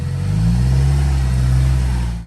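Supercharged Honda Civic hatchback with about 280 horsepower pulling away hard from a standstill, a loud close engine drone rising in pitch over two seconds before easing off.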